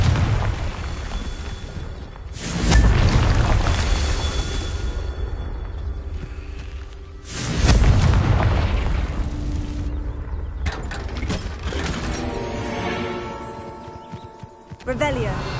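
Spell blasts from a fire-casting attack in the Hogwarts Legacy video game, two loud booming bursts a few seconds apart, each decaying slowly, followed by a denser run of crackling game effects.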